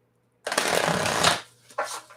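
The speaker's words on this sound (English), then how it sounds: "while I'm shuffling" Tarot cards riffle in one long, loud shuffle lasting about a second, then a shorter second burst after a brief pause, close to the microphone.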